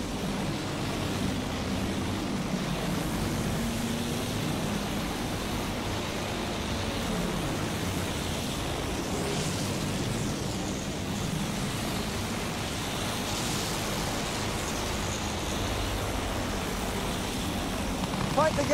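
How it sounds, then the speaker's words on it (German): Enemy aircraft flying overhead in Battlefield 1, a steady broadband engine drone lasting throughout at moderate loudness with faint shifts as the plane passes, amid game noise. "Feindliches Flugzeug, Jungs!"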